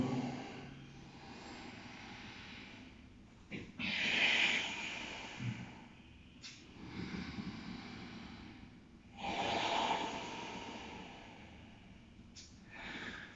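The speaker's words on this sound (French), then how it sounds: "J'utilise longue respiration profonde." Long, deep yoga breaths during a men's yoga session, slow airy inhales and exhales in swelling waves of several seconds each, close and fairly soft, with no talking.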